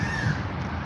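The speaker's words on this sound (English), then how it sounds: "Do you listen to the sound of bird?" A crow caws once, a loud, clear call close by over steady background noise, with no talk.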